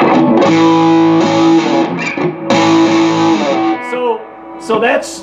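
Distorted electric guitar strummed through a Mesa Boogie Mark V 35 amp in sustained chords, a couple of pauses between, ending with brief scratchy string noise.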